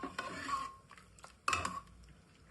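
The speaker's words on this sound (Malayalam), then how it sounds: "എന്നിട്ട് അതിൽ കുറച്ച് നമ്മളത് ഇങ്ങനെ ഉടച്ചിട്ട് ചേർക്കും" Cooked potatoes are mashed in a pot of potato curry, giving soft, close clinks and scraping knocks of a utensil against the pot in a few short bursts.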